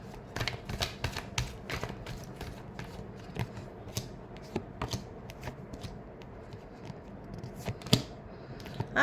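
Tarot cards shuffled by hand in a rapid series of crisp riffling bursts and flicks, close and fairly quiet, with no talking.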